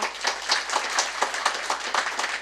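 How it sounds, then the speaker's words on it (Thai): Close, brisk hand clapping from an audience at a seminar event, a dense run of crisp claps with an uneven rhythm that holds steady to the end. "ปรบมืออีกครั้งค่ะ"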